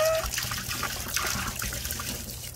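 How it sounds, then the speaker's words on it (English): Water being poured outdoors into a small homemade tadpole pond: a continuous splashing trickle, steady and fairly close, with no one speaking over it. "So I'm gonna start pouring the water."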